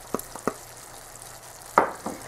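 Peas being stirred into a simmering shepherd's pie filling in a pan, giving a few soft scraping spoon strokes near the start and a louder stir toward the end, close and fairly quiet.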